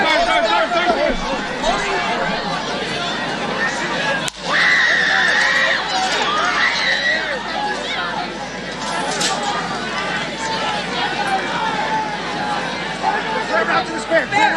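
A dense crowd at the Pennsylvania rally where President Trump was shot, agitated shouting, screams and overlapping chatter rising and falling continuously, with nearby voices talking throughout.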